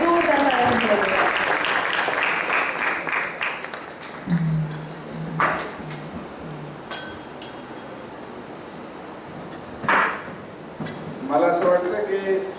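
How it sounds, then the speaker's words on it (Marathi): An audience applauds at a stage music concert, a sustained patter of clapping that rises and fades in waves, with a voice speaking over parts of it. "त्यांच्यासाठी पुन्हा एकदा जोरदार टाळ्या वाजवल्या जातात"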